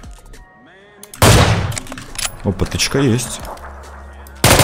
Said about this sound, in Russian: Сейчас попробуем сделать филигранный выстрел